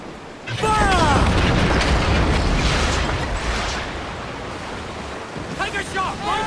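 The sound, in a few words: ship cannons firing in video game Assassin's Creed Black Flag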